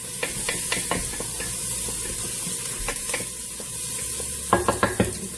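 Chicken sizzles and fries steadily in a pan alongside potatoes, under a constant hiss with occasional stirring scrapes and a cluster of sharper clinks near the end; no talk.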